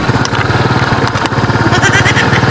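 A motorcycle engine idles loudly and close by, with a steady, rapid low-pitched chugging pulse that runs throughout.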